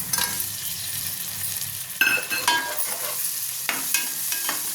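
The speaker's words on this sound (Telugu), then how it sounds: "చూడండి, ఉల్లిపాయలు వేగింది. అలాగే టమాటా కూడా వేస్తున్నాను." Onions and tomato fry in a pan for a fish and raw mango curry, with a steady sizzle broken by several sharp clattering stirs of the spoon against the pan, close up and without talk.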